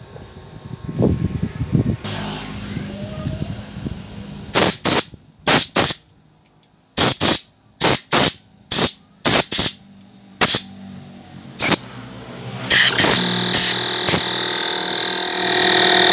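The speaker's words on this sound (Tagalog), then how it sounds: "bubugay na natin ang compressor yan. Yung mga butas-butas niyan, okay? Pati yung mga jetix niya" Compressed air blows through the jets and holes of a carburetor during cleaning, heard as a string of loud, sharp, close bursts of hissing air with short gaps between them, ending in a longer continuous blast, with some handling noise at the start.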